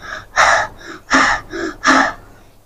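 A storyteller's voice imitates a boy panting from exhaustion: four loud, harsh gasping breaths in uneven rhythm, close to the microphone.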